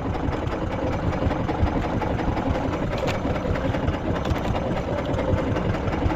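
A fishing boat's engine runs with a constant low, buzzing drone that stays close and steady throughout.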